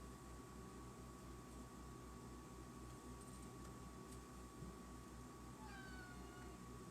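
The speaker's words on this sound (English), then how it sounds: "That's alright, kitty." A house cat meows a few times, faint and somewhat distant, over a steady hum and background noise.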